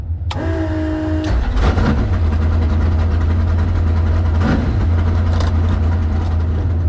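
A bracket race car's steady, rough engine idles loudly nearby with a low droning exhaust note and a weird exhaust noise, broken by a few sharp pops and a brief whine near the start.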